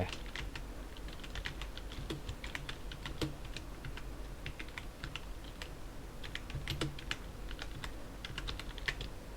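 Steady, fairly quiet typing on a computer keyboard, a continuous patter of close keystrokes and clacks with no talking.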